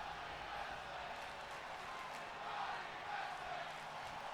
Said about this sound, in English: And the sold-out crowd here in Arizona absolutely going ballistic for Johnny Gargano.